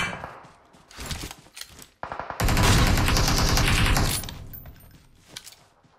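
Gunfire in the video game PUBG Mobile: scattered shots followed by a dense, loud burst of automatic fire lasting nearly two seconds, then quieter sporadic shots trailing off.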